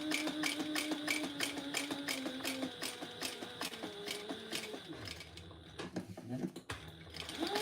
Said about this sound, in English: I'm just going up to that spot where I'm going to sew the front and the back together